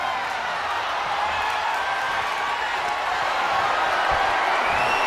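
Large wrestling arena crowd at a WWE Raw match roaring and cheering in a continuous, dense wash of noise, steady and loud throughout with a few faint thumps underneath.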